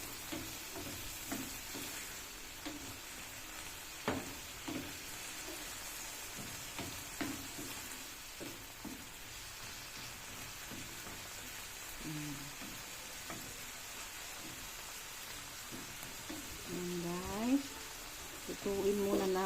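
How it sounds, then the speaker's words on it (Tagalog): Ground meat frying in a small pan makes a soft, steady sizzle with occasional stirring scrapes. A person talks quietly over it now and then. "Lutuin muna natin ang ating ginilin"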